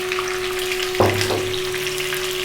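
Boiled potatoes land in hot spiced oil with a sudden loud sizzle about a second in, then a steady crackling fry continues close by under a constant background hum.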